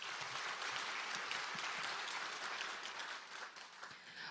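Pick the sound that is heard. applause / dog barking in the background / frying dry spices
applause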